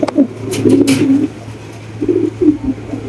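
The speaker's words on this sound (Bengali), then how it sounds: "মাশাআল্লাহ একদম বিগ সাইজের কবুতর" A big-sized pigeon gives two short bursts of throaty cooing close to the recorder, with a pause between them, over a low steady hum. A brief flutter comes near the start, and no one speaks.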